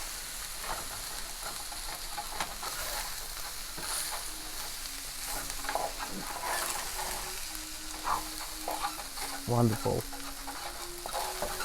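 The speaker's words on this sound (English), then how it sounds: "After adding the rice, give it a stir." Cooked rice for chicken fried rice is stirred and tossed in a hot pan, giving a continuous sizzle with scraping stir strokes, close and steady, while a voice speaks a single brief word over it.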